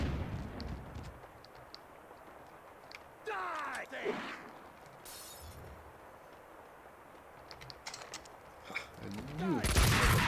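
Gunfire in the video game Max Payne 2, a sniper rifle shot from the hip among scattered shots and a grenade blast, with sharp reports, ricocheting ring and bursts of loud fire near the end.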